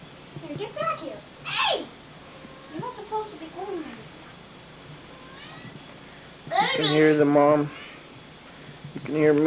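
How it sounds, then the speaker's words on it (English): A cat meows several times nearby, separate cries with quiet pauses between them. "You can hear Mitzi over here meowing."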